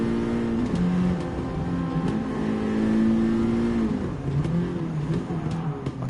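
Honda Civic Type R EK touring car engine in Gran Turismo 7, a steady loud drone that rises and falls in pitch with throttle and gear changes, heard alone without talk.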